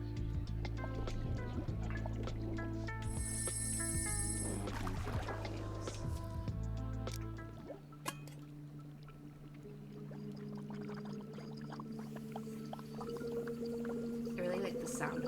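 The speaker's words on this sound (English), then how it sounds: "I really like the sound of the bubbling coffee." Coffee bubbles and gurgles in a magical cafe setting, a close, wet burbling mixed with tonal humming and chiming sounds, shifting to lighter, sparser bubbling in the second half.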